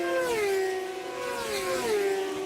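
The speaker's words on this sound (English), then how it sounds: "you can hear him just nowhere near full revs down the straightaway from 11 into 12" A North American F1000 open-wheel race car at Road America runs well short of full revs along a straight, its engine a steady droning tone that sags and rises gently, heard at a distance.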